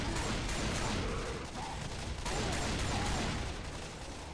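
Sustained gunfire in the zombie shooter Left 4 Dead 2 on a skyscraper custom map, loud continuous crackling bursts over a heavy rumble with no pauses.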